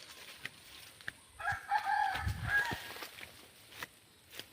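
Chickens on a rural farm, with a rooster crowing once loudly and nearby while soft clucks and brief calls come before and after.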